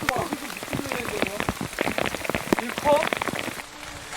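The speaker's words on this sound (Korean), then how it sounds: "야속하게도 점점 더 거세지는 비" Heavy rain pours through a tropical rainforest, drops pattering densely on leaves and surfaces close by, with people talking over the steady downpour.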